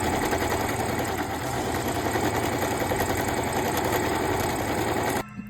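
Sewing machine stitching a long straight line of lace ruffle, a continuous loud mechanical whirr that runs nearly unbroken and cuts off at the very end, close up with no talk.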